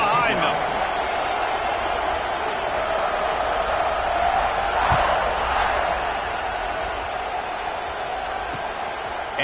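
Stadium crowd in a college football video game, Oklahoma playing, a dense, steady roar of fans swelling slightly around kickoff, continuous and loud under a play-by-play commentator's voice.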